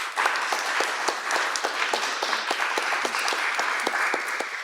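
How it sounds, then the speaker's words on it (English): Audience clapping for panelists at a university community event, a sustained round of applause with sharp distinct claps standing out over a dense bed, even and continuous throughout without talking. "Let's give a round of applause to our panelists."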